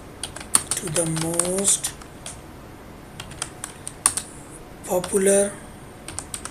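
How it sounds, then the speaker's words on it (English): Rapid keyboard typing clicks along steadily and close, with bursts of keystrokes while a voice speaks over parts of it. "here I am going to type visitors"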